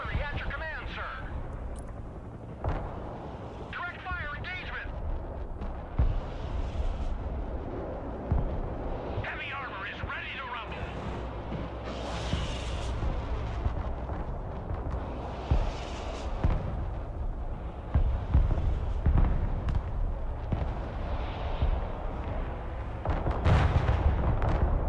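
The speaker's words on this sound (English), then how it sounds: "Artillery at your command, sir. Direct fire!" Artillery fire in the video game Broken Arrow, a modern military strategy battle: repeated distant booms and blasts roll out at intervals under steady talking.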